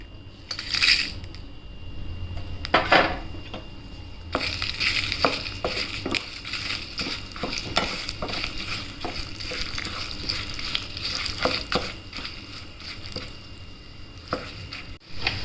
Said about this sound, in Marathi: आता लाल मिरच्या त्यामध्ये ॲड करायच्यात आणि त्याचा तडका द्यायचा आहे.